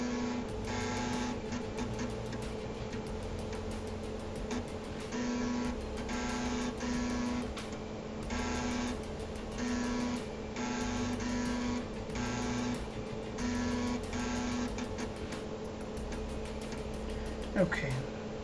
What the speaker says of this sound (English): let's boot from the floppy drive.